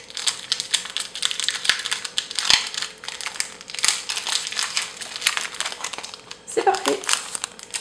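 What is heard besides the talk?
opening a Pokémon Diamond and Pearl booster pack wrapper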